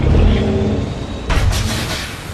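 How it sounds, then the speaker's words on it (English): A heavy truck rolls up and comes to a stop in a movie scene, a loud close engine rumble with a sharp hiss of air brakes partway through. "the truck comes to a stop in front of him."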